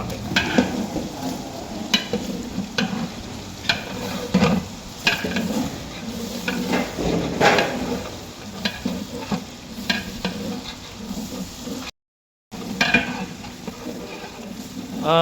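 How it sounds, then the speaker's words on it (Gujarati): Spices and tomato crackle and sizzle in hot oil on a tawa while a utensil stirs and scrapes the pan, with a brief silent gap near the end. "વઘાર"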